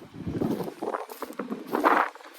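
Strong gusty wind on a rocky seashore buffets the microphone with a rough, rumbling roar that rises and falls throughout, loud and close, with no talking.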